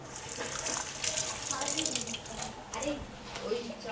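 Fresh ginger is rinsed under a running kitchen tap while making tea, a steady close splashing and gushing of water lasting throughout with small shifts in flow.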